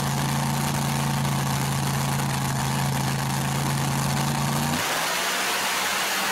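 In an open class dirt drag racing shootout, a vehicle's engine holds a loud, steady drone, then drops away abruptly near the end.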